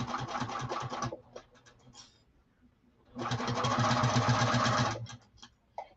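Sewing machine stitching the exterior of a saddlebag, two loud runs of rapid even stitching with short back-stitch bursts and clicks between, close up.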